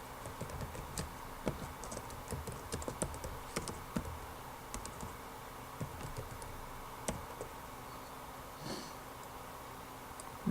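Steady typing on a computer keyboard, quick irregular key clicks running throughout at close range, with soft breathing in the background and no voices.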